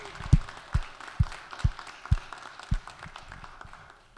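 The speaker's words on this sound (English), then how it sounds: "Y'all give our pages a big round of applause" A handful of slow, separate hand claps ring out in a state legislative chamber to welcome the young pages, about six distinct claps over a few seconds that fade rather than building into a full ovation.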